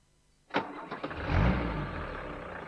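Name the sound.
diesel engine knock, Citroen HDI training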